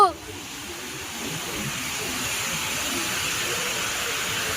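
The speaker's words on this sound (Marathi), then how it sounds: "लाटा भरपूर आहेत ना" Sea waves at Achara beach make a steady, loud wash of surf that fills the whole stretch, with a brief voice at the very start.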